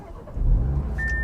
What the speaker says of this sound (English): It doesn't roar to life as much as I would like, but it still does sound pretty nice on startup.